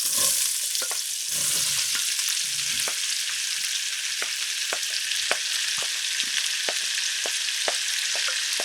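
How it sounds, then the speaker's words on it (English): Onions and shallots fry in bacon grease in a pan, making a loud, continuous close sizzle broken by repeated sharp clicks and scrapes from stirring. "And we're going to dump the onions in here."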